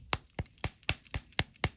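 A nail polish bottle with an agitator ball inside, capped and tapped against a surface to mix it, gives seven evenly spaced sharp knocks, close and fairly quiet, with no other sound.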